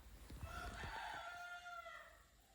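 A rooster crows once, a long drawn-out call heard from a distance, faint against a quiet background.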